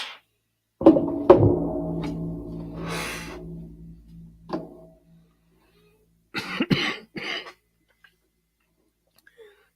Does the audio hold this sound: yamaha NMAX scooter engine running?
no